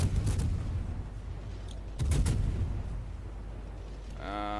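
Warship guns firing in the naval video game World of Warships, two heavy booming salvos about two seconds apart over a constant low rumble, with a voice starting at the end.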